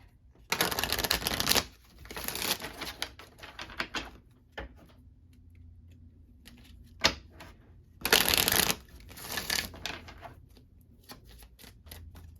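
A deck of Lenormand cards is shuffled by hand during a card reading, with quick riffling bursts in several separate spells and brief pauses between them, close and fairly quiet.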